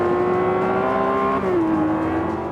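A race car engine in Forza Motorsport 5 holds a loud, steady rumbling drone, dipping slightly in pitch partway through, with no voices.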